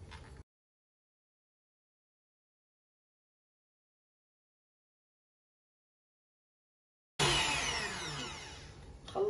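A hand mixer whips cream poured over 150 ml of milk at high speed, a loud, steady whirring that starts abruptly after a long stretch of silence and runs on to the end.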